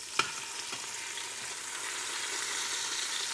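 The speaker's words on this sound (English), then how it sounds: "that's been sizzling in there for just a couple minutes here" Pork ribs sizzle and spatter steadily in hot bacon grease, a constant crackling hiss with a sharp pop near the start.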